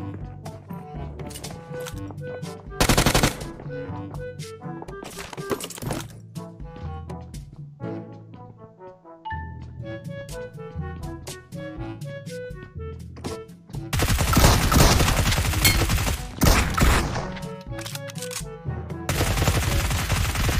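Bursts of automatic gunfire in the mobile battle royale game PUBG Mobile, sharp rapid shots in clusters with a denser heavy barrage later, loud and near over game music.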